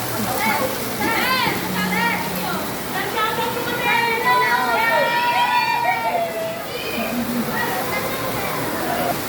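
Steady rain hisses in the background at a school while children shout and chatter nearby over it.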